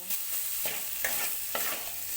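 Flattened-rice pulao with sugar and garam masala is stirred in a pan, giving a soft frying sizzle and several rhythmic spatula scrapes about every half second, close and fairly quiet.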